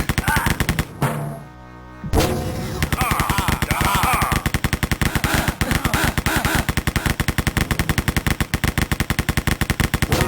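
Rapid automatic gunfire in the video game Wolfenstein, loud repeated bursts in a fast steady rhythm after a brief pause near the start, filling nearly the whole stretch.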